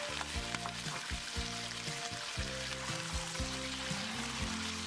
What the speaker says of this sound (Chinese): 然后缓慢加入热水进去。